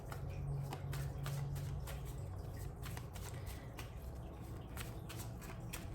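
Tarot cards are shuffled softly and continuously. A low riffling patter of card edges runs throughout at low volume.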